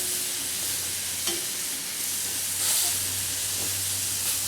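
Pieces of giant puffball mushroom frying in olive oil in a pan, a continuous close hiss and sizzle with a few soft utensil taps and brief crackles.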